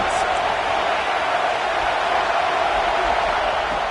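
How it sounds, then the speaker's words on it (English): A football stadium crowd roars loudly and continuously, a dense wall of cheering noise that holds steady without a break, with the sense of spectators urging on their defense. "Listen to this crowd just shaking the girders of this place"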